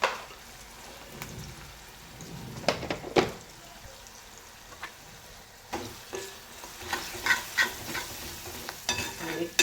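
Coriander powder, Kerala masala and red chili powder are stirred in a hot pan, a light sizzle broken by repeated short scraping strokes of a spoon, close and without talk.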